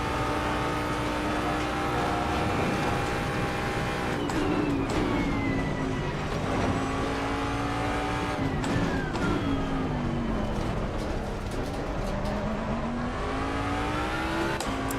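A Mustang GT3 race car in Assetto Corsa Competizione, its engine droning loud and steady with rising and falling revs through repeated gear changes, running on with no talk.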